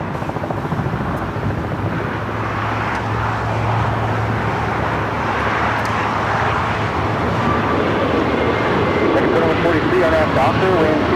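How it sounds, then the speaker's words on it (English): A JetBlue Airbus A321neo bound for JFK rolls for takeoff at LAX, its engines a steady, broad roar that builds gradually and holds loud throughout, with faint traffic-like noise underneath. "Next takeoff, JetBlue Flight 2074 heading to JFK."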